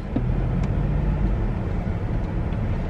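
Steady low rumble and road roar inside a moving car, a constant broadband drone with no breaks and no voices.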